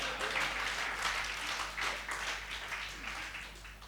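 Applause ripples through the audience at a Hindi comic poetry gathering, dense and continuous clapping with surges and dips, fairly close, over a low steady hum.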